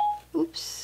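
A smartphone sounds a short electronic tone as Siri activates by accident, followed by a higher chime, with a voice briefly reacting in between.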